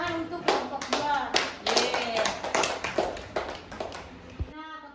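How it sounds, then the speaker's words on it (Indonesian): A classroom of students clapping for a group, a dense burst of hand claps with rapid uneven rhythm lasting several seconds, then fading and stopping near the end. "kita beri tepuk tangan untuk kelompok 2"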